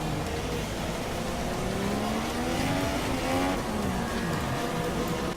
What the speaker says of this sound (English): Let's listen to his engine.